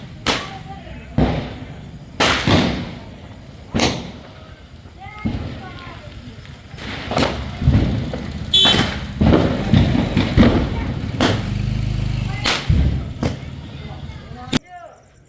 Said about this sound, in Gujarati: છોકરાઓ ફટાકડા ફોડે છે